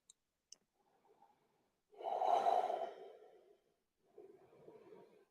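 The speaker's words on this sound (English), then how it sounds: "And then finish on the exhale on the left nostril." A long, breathy exhale through one nostril during yogic alternate-nostril breathing swells and fades over about a second and a half, followed later by a softer breath, with small clicks beforehand in a quiet room.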